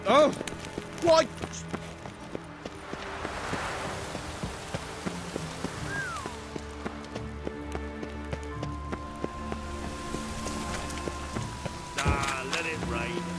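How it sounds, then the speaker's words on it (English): In The Witcher 3: Wild Hunt video game, steady rain patters throughout, with occasional footsteps and clicks layered over the constant hiss. "I like rain."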